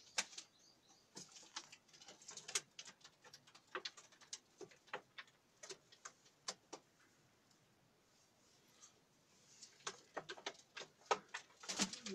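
Pigeons coo faintly amid scattered clicks, scratches and brief wing flutters, with a sparse, irregular rhythm in a quiet space.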